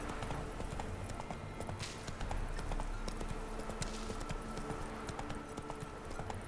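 Horse hooves clip-clop steadily in The Witcher 3 while the horse is ridden, a continuous rhythmic trot of fairly soft, close steps over a busy game ambience.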